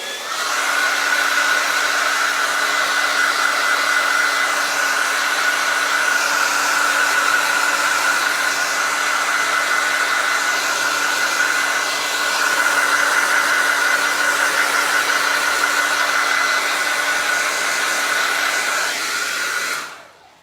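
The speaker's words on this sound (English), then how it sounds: "I'm gonna hit these with the blow dryer real quick, just to kind of speed the drying process up a smidge" A blow dryer runs loudly and steadily at close range over painted Dollar Tree craft banner pieces for a fall harvest banner, holding one even whine and rush for about twenty seconds before cutting off.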